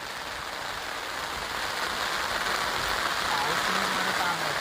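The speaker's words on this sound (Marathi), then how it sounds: "पाऊस सुद्धा लय पडायला लागलाय आता." Rain pours down on a riverbank during a night of crab catching in the monsoon, a steady dense hiss that builds slightly louder over a few seconds with no voices.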